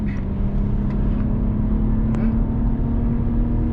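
A car on a Nurburgring lap gives a loud, steady engine drone from inside the cabin, holding a constant pitch with a few faint clicks over it.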